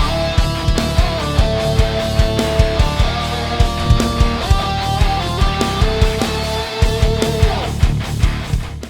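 A music mix with a melody line doubled an octave below, layered over a steady beat with punchy percussive hits, loud and continuous without voices.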